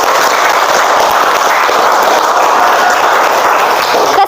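Applause from a classroom of students, a dense, steady wash of clapping that holds at a constant level for the whole stretch and then cuts off abruptly.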